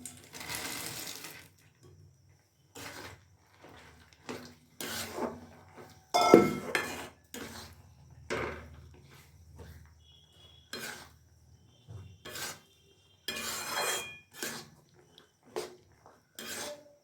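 Nuts being stirred into thick date-palm jaggery syrup in a pot: close, intermittent scraping and clinking strokes in uneven bursts, with one sharper knock midway.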